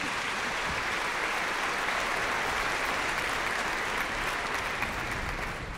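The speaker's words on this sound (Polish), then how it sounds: "Wielkie brawa dla nas wszystkich." A large audience at a University of Warsaw jubilee concert applauds steadily, a dense wash of clapping that holds at full strength throughout.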